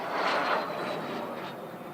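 A MiG-15 jet with a Klimov VK-1 engine at the East Fortune airshow gives a steady, broad roar that swells early and stays loud throughout, with no voices.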